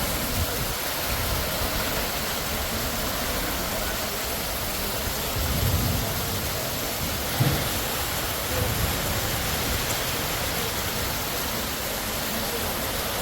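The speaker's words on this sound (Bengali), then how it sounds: "এই যে দেখো বৃষ্টিও চলেও আসছে।" Steady morning rain pours down in a dense, even hiss that fills the whole stretch, with a few soft low swells but no distinct thunderclap standing out.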